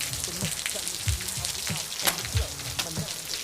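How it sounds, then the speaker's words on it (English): Heavy rain hisses loudly and steadily across the whole stretch, with sharper spatters and occasional low thumps breaking through the dense downpour. "Why is the rain so loud?"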